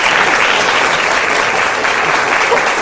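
A studio audience on a morning talk show breaks into loud, steady applause that fills the whole moment without pause.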